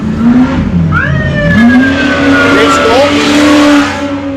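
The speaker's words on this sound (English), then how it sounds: "Rich Goldman just went by. That truck sounds good too" A competition off-road race truck at the High Desert 100 in Powell, Wyoming roars past close by, engine note rising and falling through gear shifts, loud and continuous against the outdoor crowd.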